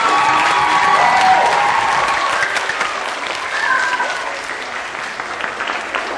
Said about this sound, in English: let's give Mr. Reed a big round of applause